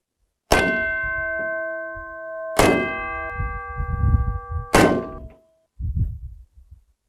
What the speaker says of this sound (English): Have you seen how the doors close?